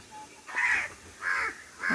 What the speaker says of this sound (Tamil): எல்லாம் நிறைய காக்காங்க வருங்க.